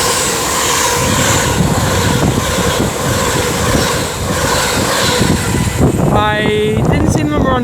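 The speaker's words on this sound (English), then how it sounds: "The Ryanair's coming. Ryanair from Faro." Ryanair airliner inbound from Faro passing overhead near the West Coast Main Line at Marston Green, a steady loud broadband jet roar throughout, with a brief tonal squeal and rising whine near the end.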